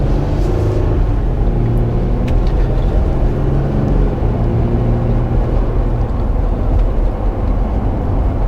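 A 2021 Jeep Gladiator Rubicon drives on the road, its engine and tyre rumble forming a steady, loud, continuous low drone throughout with no talking.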